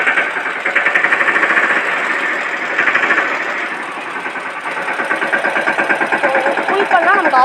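A Mahindra Yuvraj 215 NXT mini tractor engine runs loud and close with a rapid chugging diesel knock, revved lightly so the pulse quickens and swells before settling, with brief talking near the end.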